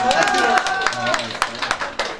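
A small indoor crowd at a bride price custom claps and applauds continuously, a dense patter of hand claps with some voices and cheering mixed in.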